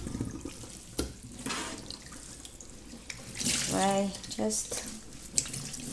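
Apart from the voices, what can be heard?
water squeezed out of washed wool knitwear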